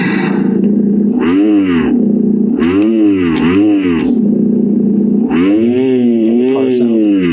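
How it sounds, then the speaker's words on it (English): Synthetic car engine sound played through the speaker of a HillMiles Pop1 mini electric dirt bike, a steady idle drone broken by repeated rising and falling revving sweeps, loud and close. "Car sound."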